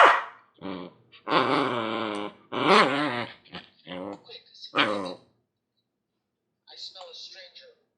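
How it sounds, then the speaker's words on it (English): A small Chihuahua Papillon mix dog growls and barks in short, close bursts, mixed with whiny vocal sounds, then goes quiet before a softer final yip. "He's a little puffball of anxiety and barks."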